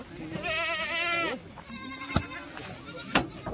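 Goats bleat at a market in long wavering cries, one drawn out across the first second and more calls following, with crowd voices and clatter around them.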